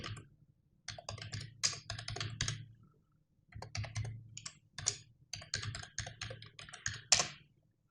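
Crisp, close computer keyboard typing of an email address in quick bursts of key clicks separated by short pauses, with no voice.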